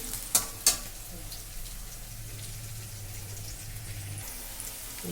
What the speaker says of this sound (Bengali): পেঁয়াজ রসুনটা ভালো করে ভেজে নিয়েছি